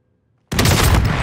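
Silence, then an abrupt burst of loud rapid video game gunfire that continues without a break.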